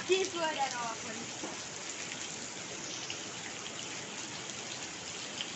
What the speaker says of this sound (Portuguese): E a chuva continua aqui em Florianópolis.